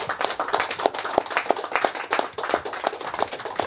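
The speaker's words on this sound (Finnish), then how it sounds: "Olisiko toista aplodit vielä sille?" Applause and clapping from a live audience at a Finnish speedrunning event after a Sly Cooper run finishes with a personal best, a steady spatter of hand claps at moderate level throughout.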